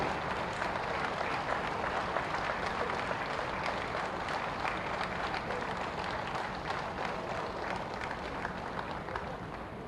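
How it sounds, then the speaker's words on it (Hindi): Dense, sustained applause from a large crowd fills the air throughout at the foundation-stone ceremony for the Uttar Pradesh Sainik School in Gorakhpur, steady and unbroken for about ten seconds. "जब तक मन आप लोगों का भरे नहीं तब जब ये आप लोगों का मन में शांति नहीं होगी तब तक वो ताली हमारे पूज्य महाराज जी खातिर बजनी चाहिए।"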